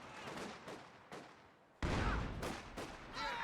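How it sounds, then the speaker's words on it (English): Artillery barrage in Company of Heroes 2, striking heavy cover during a tournament match: a series of loud, rumbling explosions, several sharp impacts in quick succession with a big blast midway, under faint background commentary. "First barrage coming in against the heavy cover"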